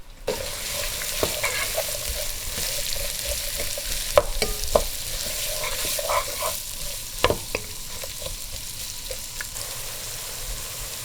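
Onion and garlic sautéing in a pan for a Persian dill and fava bean rice with lamb shank, a steady close sizzle broken by sharp scraping stirs and utensil knocks, with no talking.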